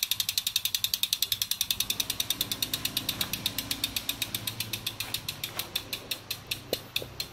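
Rear freewheel hub on a DT Swiss wheel fitted to an Aster Galaxy carbon road bike with Ultegra group, ticking in a fast, even ratchet that slows gradually as the wheel coasts, close and clear with no talk.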